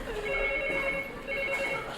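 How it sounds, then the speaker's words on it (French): A telephone rings during a 1997 French stage comedy, a steady electronic trill in two bursts with a short dip between, fairly close and clear against the quiet room. "Téléphone."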